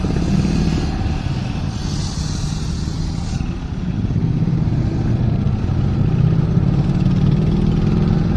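Superbike engine fitted with an aftermarket exhaust, a loud continuous motor drone that swells and fades as it runs nearby, with traffic clatter around it.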